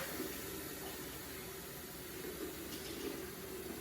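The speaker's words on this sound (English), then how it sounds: "just pour some water in for the mixture" Water is poured in a steady, faint trickle into a cold compost mixture for garden beds, a soft continuous splash with no talking.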